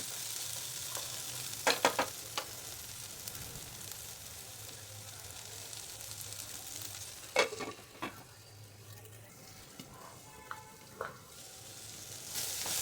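Vegetables with peas steaming under a lid in a pan, a soft steady sizzle and hiss throughout, broken by a few faint clinks and taps; no talk.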